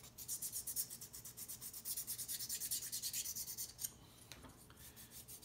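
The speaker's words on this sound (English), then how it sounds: "So I'm gonna use my file" A hand file rasps back and forth across a wooden UGears Wolf-01 handgun puzzle part in quick, even strokes, close and fairly quiet, then slows to a few scattered scrapes near the end.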